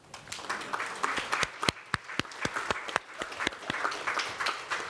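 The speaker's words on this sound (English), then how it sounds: "You can clap." Sparse, scattered applause from a small audience at a panel event on risks faced by LGBTQI+ people, with a few distinct loud claps standing out over a softer patter, moderately close and without voices.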